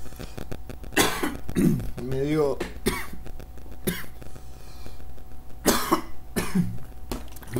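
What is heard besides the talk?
streamer coughing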